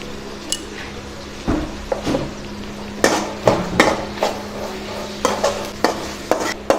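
Onions and tomatoes sauté with salt in a pan, a spoon scraping and knocking against the metal in irregular bursts over a low, continuous sizzle, close and fairly loud.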